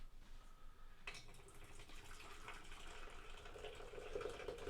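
Ginger beer pours into a container with a faint, close liquid splash and fizzing trickle that begins abruptly and continues steadily, quiet overall.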